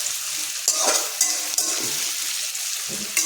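Onions fry in a pan for a bottle gourd curry, a steady close sizzle broken by several scraping stirs of a spoon against the pan.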